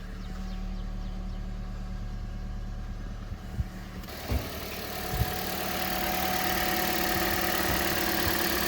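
A 2014 Toyota Corolla engine, just fitted with a replacement alternator, cranks and catches partway through, then settles into a steady, close idle hum that runs to the end without any talk.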